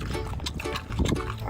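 Pigs on a farm grunt and oink in close, steady bursts, with a faint voice briefly mixed into the animal noise.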